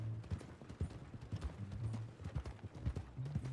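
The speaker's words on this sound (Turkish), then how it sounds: "Baba atları geliyor bak bu sefer." Horses galloping in the Red Dead Redemption 2 Online video game, with rapid, close clip-clop hoofbeats in an uneven, continuous rhythm and an occasional whinny throughout.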